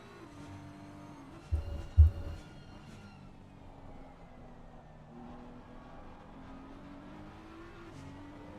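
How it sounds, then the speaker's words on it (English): An engine rises in pitch as a BMW race car accelerates through the gears in a sim racing game at Snetterton. It is moderately distant, with two short thumps early on and a steady, climbing drone. "Got great acceleration, that BMW."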